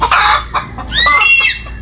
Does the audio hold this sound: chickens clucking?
yes